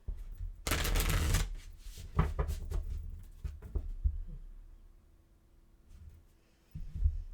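A burst of tarot card shuffling riffles loudly, followed by scattered taps and soft handling of the deck, then quiet.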